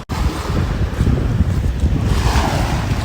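Ocean surf rolling steadily onto an Alaska shore on a cool 54-degree day, a continuous broadband wash with wind buffeting the microphone, fairly loud and close throughout.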